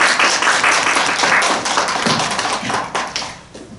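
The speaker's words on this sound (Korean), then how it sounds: "우리 격려 박수 다시 한번 받겠습니다" A church audience gives a round of encouraging applause for a missionary. Loud, dense clapping fills the room, with sharper individual claps near the end as it fades slightly.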